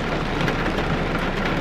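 Heavy rain pours down steadily and loudly, forming a dense, unbroken wash of sound with no voices.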